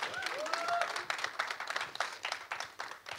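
A studio audience applauds at an event for a Punjabi film trailer, with dense sustained clapping close up and some voices mixed in beneath it.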